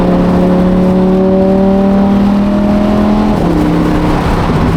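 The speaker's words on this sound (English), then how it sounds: "Just the sound of the car is fantastic" A bone-stock, untuned Lamborghini engine hums with a smooth, steady tone at close range, then its pitch shifts abruptly partway through and settles into a new even drone.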